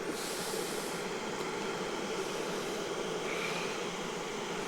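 A gallon of water heats toward a boil in a pot on an electric burner, giving a steady, even hiss and faint rumble that holds unchanged throughout, with no talking.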